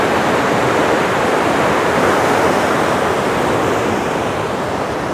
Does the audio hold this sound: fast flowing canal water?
yes